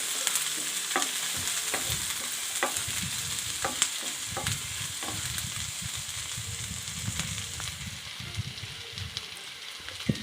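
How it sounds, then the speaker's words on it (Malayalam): Chopped onion, green chili and garlic stirred into hot oil after mustard seeds have popped, for a ladies finger curry: steady close sizzle with repeated scraping stir strokes of a spoon against the pan, no voices. "അപ്പോൾ കടുകൊക്കെ പൊട്ടി കഴിഞ്ഞപ്പോൾ അരിഞ്ഞ് വെച്ച സവാള, പച്ചമുളക്, വെളുത്തുള്ളി ഇട്ടു കേട്ടോ."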